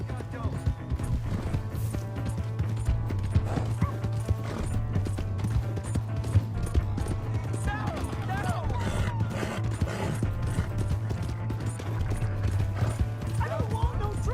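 Hooves of a galloping horse in Red Dead Redemption 2 pound out a steady, continuous rhythm over a low droning background, with voices speaking at times.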